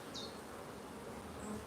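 Honey bees hum at an apiary hive around the brood nest, a constant close drone that holds steady for the whole stretch, with no voices over it.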